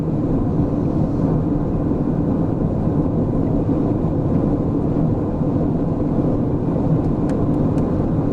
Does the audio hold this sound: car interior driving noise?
yes